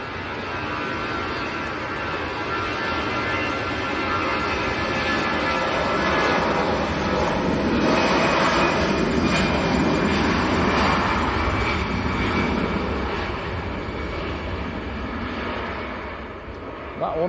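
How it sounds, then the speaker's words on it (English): An EasyJet Airbus A320 begins its takeoff roll at Manchester Airport, a steady, loud jet engine roar building and swelling toward the middle before easing slightly, continuous throughout. "EasyJet A320 just about to roll."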